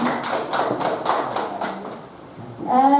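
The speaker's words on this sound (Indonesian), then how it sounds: "Berikan tepuk tangan pada ibu kita." A small group claps for a teacher at a school gathering at SD Negeri 1 Mikian, a handful of distinct, fairly loud rhythmic claps over about two seconds, after which a voice begins speaking.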